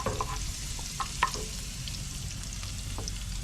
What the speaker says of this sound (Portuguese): O alho já tá dourando